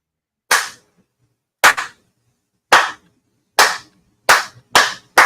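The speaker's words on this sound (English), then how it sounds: "that deserved a slow clap right there, my friend" A slow clap: six sharp, loud, close handclaps spaced about a second apart, each ringing briefly into silence, with the last two coming slightly quicker.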